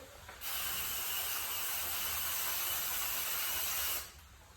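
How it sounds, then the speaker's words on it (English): A loud, steady aerosol hiss of foam cleaner sprayed into a subfloor adhesive gun's valve bursts on, holds for about three and a half seconds, then cuts off abruptly against a quiet background. "we get the gun and foam cleaner and we spray that into the valve here"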